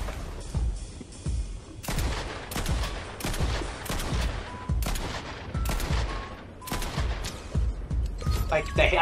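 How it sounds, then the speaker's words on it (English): Repeated loud gunshots in a first-person shooter game, sharp blasts coming every second or so over a steady background of game noise, with no talking. "I swapped to the shotgun and aimed it and instantly did 140 damage"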